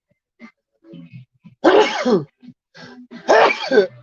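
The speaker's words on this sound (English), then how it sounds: "You hear how feminine that sneeze was" A woman lets out two forceful sneezes, close and loud, each preceded by short sharp inhales and small vocal catches.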